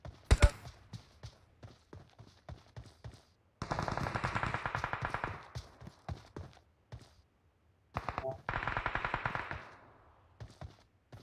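Gunfire in the PUBG video game, with rapid automatic bursts of several seconds separated by scattered single shots, sharp and close with short silent gaps between them.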